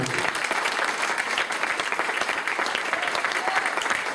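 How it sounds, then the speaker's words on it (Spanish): A church congregation at a youth service applauding loudly, a thick, continuous roar of many hands clapping with a faint crowd murmur beneath, unbroken throughout. "Un aplauso"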